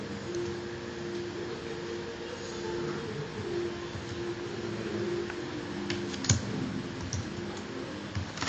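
Typing on a computer keyboard while programming in Emacs: a steady stream of soft, quick key clicks, with one slightly louder tap, over a constant low fan hum. Nobody speaks.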